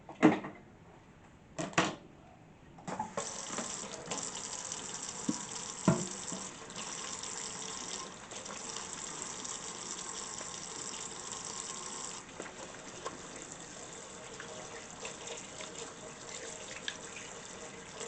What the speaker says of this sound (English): I'm gonna start by washing my hands